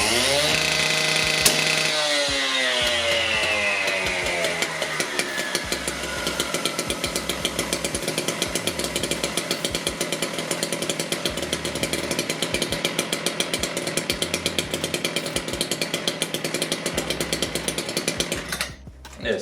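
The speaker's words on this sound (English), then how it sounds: "we're just going to do a little comparison here between the two, between the K770 two-stroke version and the battery-powered K1 PACE" A Husqvarna K770 two-stroke disc cutter and a battery-powered K1 PACE disc cutter run, starting with a high whine spooling down, then a steady buzzing engine drone with rapid rhythmic pulsing that continues loudly before cutting off near the end.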